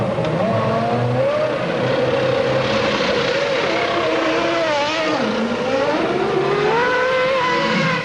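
Formula 1 race cars at the 1999 Canadian Grand Prix, engines droning and shifting pitch as they pass, a continuous loud mechanical whine with rising and falling tones.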